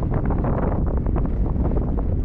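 Strong wind buffets the microphone on an open hilltop at Parkhouse Hill near Chrome Hill, a steady loud roar with gusty low rumble lasting throughout, no voice over it.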